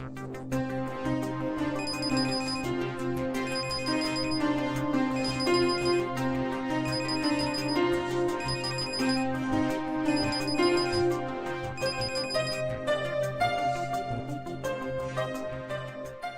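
A phone ringtone plays in a Marathi TV serial scene, a repeating electronic melody with steady rhythmic bursts that keeps going for the whole stretch, alone and without talk.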